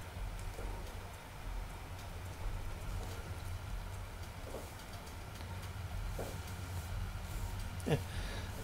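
Rain in the farming video game Farming Simulator 19 patters steadily and softly as a constant hiss over a low engine hum, with a few faint clicks.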